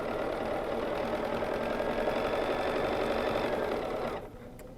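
A BERNINA sewing machine doing free-motion ruler quilting runs in one steady, fast stitching burst, close and loud, then stops abruptly near the end, leaving quiet room tone.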